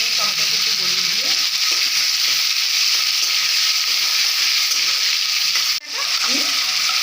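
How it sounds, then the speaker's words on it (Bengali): Tomato with salt being stirred and fried in a pan for a pomfret in mustard-poppy paste dish, giving a steady close sizzle with soft scraping strokes and a sharper stir near the end. "তারপর একটু সামান্য এবার একটু নেড়ে চেড়ে নিয়ে টমেটোটা একটু গলিয়ে দিয়ে"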